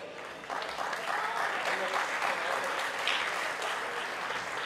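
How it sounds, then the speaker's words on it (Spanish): An audience applauds at a Veracruz cultural event during an award presentation, sustained clapping that swells in after a brief quieter start and holds steady, with crowd murmur beneath. "Un fuerte aplauso."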